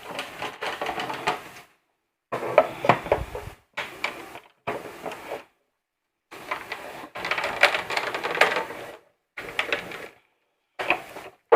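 A hand-cranked die cut machine feeding a sandwich of cutting plates through its rollers: bursts of close mechanical grinding and clicking, each lasting a second or so, separated by short silences.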